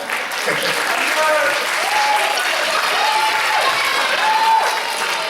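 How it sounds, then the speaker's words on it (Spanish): A loud, sustained wash of audience clapping for the percussionists at a school charity concert, with voices and cheering calls rising over the applause. "Fort aplaudiment per a ells, vinga."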